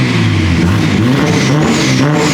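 A Mazda RX7 FD rotary engine running rich rumbles loud and close, with a rough, uneven revving burble throughout the short moment.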